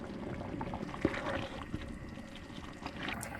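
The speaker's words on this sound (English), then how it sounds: "add the noodles so they can boil and get soft." A pot of water with a pound of noodles boils steadily at a camp stove during truck camping near a hot spring, giving a continuous bubbling hiss with a few small pops, close and moderately quiet, with no talking.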